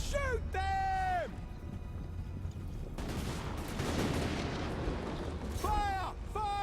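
Video-game soldiers open fire in a sustained, loud burst of gunfire through the middle of the clip, with shouted voices just before and after.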